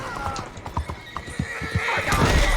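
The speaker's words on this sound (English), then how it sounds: "O cavalo não desviou." Horse hooves clip-clop in a quick steady rhythm, then a neigh rises near the end, set in the world of Red Dead Redemption 2, with faint voices in the background.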